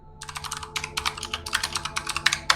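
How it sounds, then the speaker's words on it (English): A loud computer keyboard clatters with rapid, uneven keystrokes in close bursts, heard alone with no talking over it. "your keyboard is super loud"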